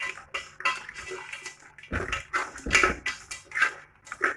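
A spoon clinks and scrapes against a pot while barley soup is stirred, making a close, irregular run of metallic knocks and scrapes with no speech.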